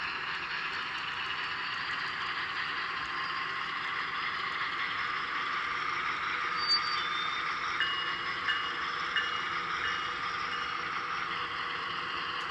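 An N scale Broadway Limited ES44AC model locomotive in KCS colors pulls away at three-quarter throttle, its DCC sound decoder giving a faint, steady, hissy diesel drone with occasional small ticks.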